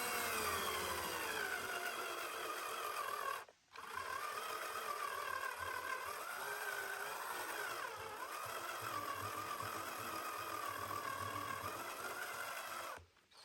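A power drill whirs steadily for several seconds while boring into wood, cutting out briefly, then running on with a strained, wavering pitch as it struggles, before stopping again.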